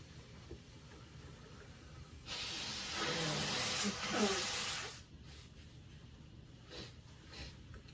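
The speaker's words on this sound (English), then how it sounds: "I'm gonna blow my nose." A forceful nose blow, a broad hissing burst lasting about three seconds, close to the mic, with faint room noise before and after.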